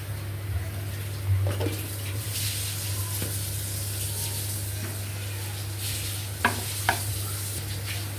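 Flour, chilli powder and salt being stirred and mixed in a bowl, a steady soft scraping with a couple of sharp taps, over a constant low hum.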